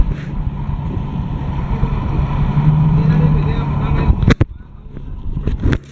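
A steady low boat engine drone runs throughout with wind rumble, off Guimaras Island, broken by a few sharp knocks near the end.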